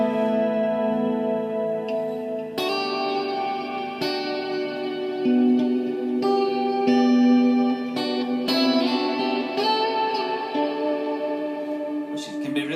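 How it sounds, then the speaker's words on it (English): Electric guitar chords ring through a Line 6 Pod HD500 synth reverb into a Laney GH50L amp, each strum blooming into a long, swirling, shimmering wash that sustains and overlaps with the next, played alone without talk. "this is a cool reverb type on the kind of synth reverb on the pod"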